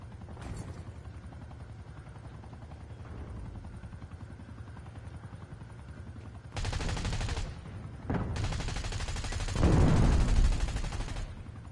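Enemy watchdog helicopter in a Call of Duty match, its low rotor drone rumbling steadily under bursts of gunfire that swell louder toward the end.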